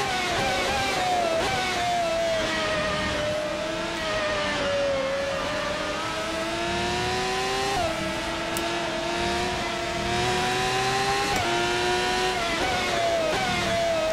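A Ferrari 412 T2 V12 Formula 1 car screams loudly and continuously in rFactor 2, its high-pitched engine note rising and dipping through several gear changes without any talk over it.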